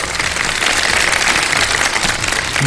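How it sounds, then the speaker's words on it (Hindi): A studio audience on a television quiz show claps for the three participants, a dense, sustained burst of applause at steady loudness for a few seconds. "तीनों पार्टिसिपेंट्स के लिए बहुत सारी तालियां"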